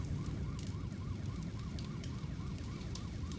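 Wailing ambulance siren in the horror game Nightmare House 2, a steady repeating rising-and-falling tone over a dense low rumble of fire or ambience, with no talk.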